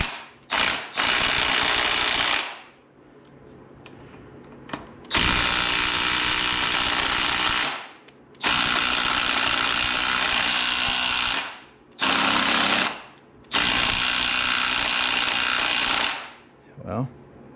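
A ratchet with a 22 socket works on the front fork of a Honda GL1000 motorcycle, giving five or six loud, close bursts of rapid clicking, each lasting one to three seconds, separated by short pauses.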